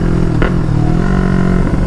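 A Yamaha R3 motorcycle with stage 1 performance mods revving hard, a loud close engine drone holding high revs with a brief sharp burst, no speech.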